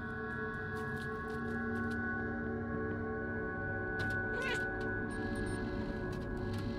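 A cat meows in the video game Stray, a short wavering cry rising midway over a steady tonal game soundtrack and hum, with a few faint clicks around it.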